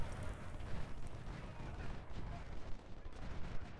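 Artillery fire from a Civil War battle in Ultimate General: Civil War, with irregular rumbling booms and crackling gunfire layered into a continuous, fairly loud battle din.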